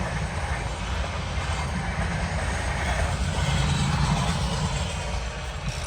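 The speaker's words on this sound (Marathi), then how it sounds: "आता ट्रेन चालले." A train rumbles past a level-crossing gate near Amrapur, a steady loud roar with low rolling clatter throughout, no voices.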